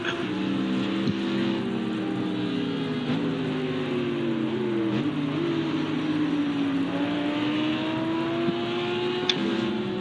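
A GT race car engine in Project Cars 2 drones loudly and steadily, its pitch sliding up and down through gear changes, with other cars faintly around it and no talking.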